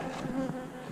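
Honeybees swarming around a beehive, a dense steady buzzing drone close by, with individual bees whining past.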